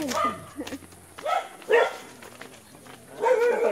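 A dog barks several times at close range in a rural community, sharp yelps and barks spaced irregularly, with some voices mixed in.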